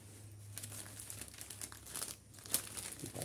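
A bougainvillea cutting being wrapped in plastic, with close, soft crinkling and rustling that comes in uneven bursts and one sharper crackle near the end.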